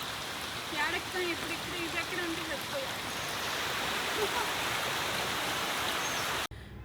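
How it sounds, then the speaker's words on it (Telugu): Steady broadband hiss of rain falling, continuous and fairly loud throughout, with faint voices underneath, ending in a brief abrupt cut. "ఓ పక్క వర్షం పడుతుంది"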